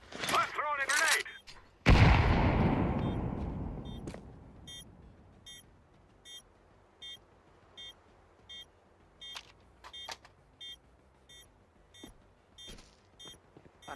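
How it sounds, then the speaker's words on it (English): Grenade thrown and detonating in the video game Counter-Strike 2: a loud, close blast with a long rumbling decay, followed by faint periodic beeps and scattered distant shots. "Let's throw in a grenade."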